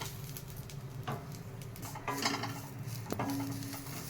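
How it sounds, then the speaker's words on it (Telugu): Drumstick leaves fry gently in a pan over a low flame, a soft continuous sizzle with occasional stirring scrapes and a couple of light utensil knocks. "ఒక 5 నిమిషాలు అలా వేపుకున్నామంటే సరిపోయిద్దండి సిమ్లో"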